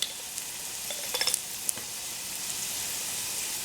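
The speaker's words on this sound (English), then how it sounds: "we're going to just be cooking it until all those nice flavors are released from that curry powder" Onions and curry powder, a light curry and Madras curry, frying on low heat for a Trinidad curry crab, giving a steady close sizzle with a few brief scraping stirs near the start.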